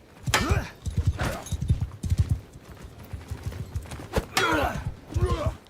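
Hoofbeats of a horse galloping in the video game Bannerlord, a steady clip-clop rhythm close by, with occasional whinnies and bursts of combat noise around it.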